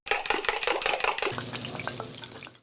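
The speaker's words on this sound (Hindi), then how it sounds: "प्याज का तड़का।" Onions for a tadka, one medium onion in two tablespoons of ghee, are stirred with quick rhythmic scraping before settling into a steady, close sizzle.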